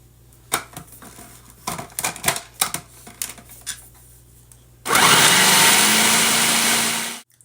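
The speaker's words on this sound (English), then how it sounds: "now we're going to pulse again" A kitchen food processor pulses a sticky power ball mixture in several short, choppy bursts, then runs continuously for a few seconds in a loud, steady whir before winding down.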